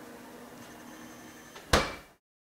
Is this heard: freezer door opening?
yes